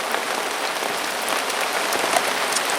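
Heavy rain pours steadily on a lakeside carp fishing setup, a dense, continuous hiss of drops drumming on nearby surfaces with no let-up and no voices.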